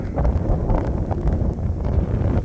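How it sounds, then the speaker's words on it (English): Strong wind gusts through a major January lake-enhanced winter storm in Valparaiso, Indiana, giving a loud, continuous roar with heavy buffeting rumble on the microphone and no voices. "look at that gust of wind coming through"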